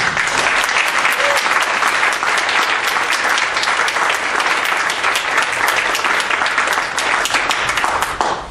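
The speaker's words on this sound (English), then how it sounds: "give a big round of applause and thanks for their self-offering to the church" A church audience at a council candidates event bursts into loud, sustained applause, dense and continuous from start to finish with no pause.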